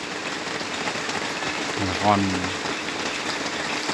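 Steady hiss of heavy rain falling during rice harvest season in a Vietnamese highland village, a dense constant wash with a man's brief spoken words in the middle.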